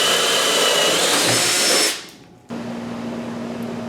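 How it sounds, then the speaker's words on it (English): A Chicago Pneumatic 20V cordless drill spins a 1-inch self-feeding wood bit through 2x lumber, a loud steady whine that cuts off near the two-second mark, then restarts at a lower hum. "something like a 1 inch self-feeding wood bit through 2x material would be absolutely no problem at all"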